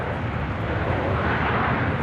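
Alaska Horizon Embraer E175 airliner arriving at Los Angeles International Airport, a loud, steady broadband jet roar that holds without break for the full stretch, close and alone with no talk.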